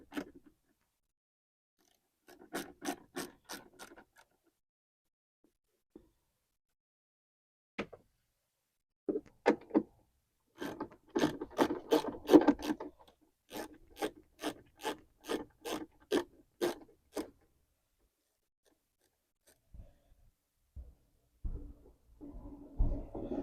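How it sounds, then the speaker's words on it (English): A 10mm socket ratchet backs out tail light bolts on a 2009-2017 Chevy Equinox, producing faint, close, evenly spaced clicking runs separated by silent pauses. "we can now use the 10mm socket to remove the two bolts"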